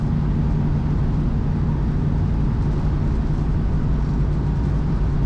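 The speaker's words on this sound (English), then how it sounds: "Nice exhaust note as well." Steady, loud low rumble of a 1963 Chevrolet Corvair convertible restomod driving, a constant droning engine and exhaust note with road noise and no breaks.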